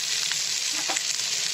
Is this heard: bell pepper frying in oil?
yes